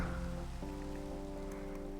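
Steady rain patters over a video-game world with no thunder, a continuous even hiss of drops layered over a low tonal game ambience and music bed.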